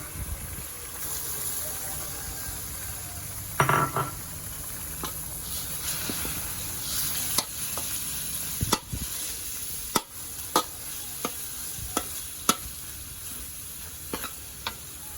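Pork belly stir-frying in a pan for a red curry stir-fry with long beans, steady sizzle throughout with a burst of frying noise early on and sporadic sharp clinks of the spatula.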